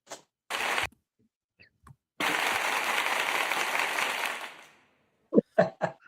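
A crowd cheering sound effect bursts in after short clicks and a brief noisy blast, holding as a loud, broad roar for about two seconds before fading out, followed by a few short sharp knocks.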